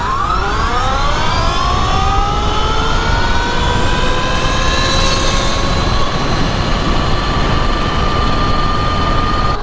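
A 72 volt e-bike on 12-inch wheels with a 62 tooth sprocket accelerates hard down a 1/8 mile run, its motor whine rising steadily in pitch under loud, constant wind rush.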